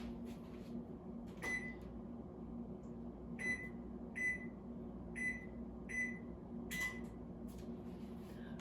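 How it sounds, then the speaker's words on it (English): An oven's control panel being set to 350 degrees, a series of short electronic beeps, each a single press, spaced irregularly over a steady low kitchen hum. "we're going to head over to the oven and set it to 350"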